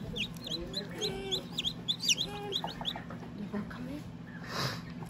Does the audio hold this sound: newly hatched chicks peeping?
yes